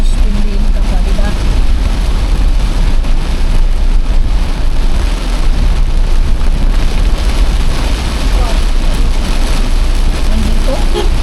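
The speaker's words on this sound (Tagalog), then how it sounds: "Nandito lakas ng ulan." Heavy rain pours during a Transportify delivery trip home, a loud constant hiss and drumming mixed with low vehicle rumble, steady and close for the whole stretch.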